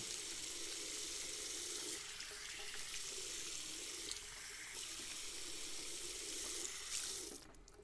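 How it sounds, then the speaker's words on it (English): Tap water runs steadily into a sink as a face is rinsed after a wet shave with a vintage Gillette Slim Twist safety razor, a constant close splashing rush with slight shifts as hands move under the stream. "I'm going to kind of rinse off and see where we're at."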